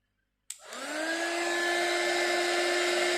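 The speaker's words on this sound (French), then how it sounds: "Je vais prendre mon heat gun pour chauffer ma mousse." A heat gun for warming craft foam clicks on with a sharp onset, then spins up into a steady, loud, close whirring blow with a clear high motor whine that holds without pause.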